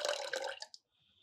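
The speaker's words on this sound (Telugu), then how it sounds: "దీంట్లో కావాలంటే కొంచెం వాటర్ యాడ్ చేసుకోండి." Water splashes into a mixing bowl in a short, close pour lasting under a second, then cuts off to near silence.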